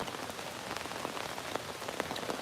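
Steady rain falling outdoors at night, a dense close patter of drops on surfaces with scattered sharper hits, continuous and alone.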